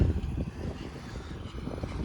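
Low, steady engine rumble of an MTZ 82.1 tractor pulling away on a farm, a continuous loud drone without talk.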